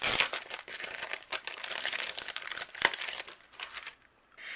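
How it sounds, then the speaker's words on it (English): A die cutting machine runs white cardstock through, giving a continuous crinkly, crunching rasp that fades out near the end. "Now what we're going to do is do a little bit of die cutting. I'm going to die cut out Winter Wishes."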